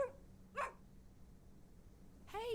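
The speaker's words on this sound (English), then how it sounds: "Oh, dog." Dog barking in the adventure game The Excavation of Hob's Barrow, three short yappy barks spaced apart, close and fairly loud over a quiet background.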